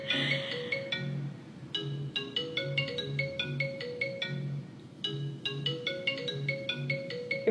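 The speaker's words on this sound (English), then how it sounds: "Your phone's ringing." A melodic electronic ringtone plays repeatedly, bright chiming notes in a steady looping pattern, fairly clear with no talking.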